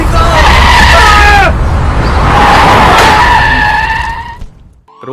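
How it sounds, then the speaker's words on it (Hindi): A car's tyres skid loudly on a road just before an accident, a harsh screech in two long swells close by, dropping away abruptly at the end. "रोड पर आती हुई एक गाड़ी से दीपिका का एक्सीडेंट हो जाता है"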